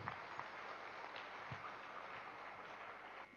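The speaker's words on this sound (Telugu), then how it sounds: "మనందరి గురువు గారు పత్రి గారికి ఒకసారి అందరు గట్టిగా చప్పట్లు కొడదాం" A faint crowd claps for the guru Patri at a meditation gathering. The applause is a soft, continuous patter of many hands, heard from some distance.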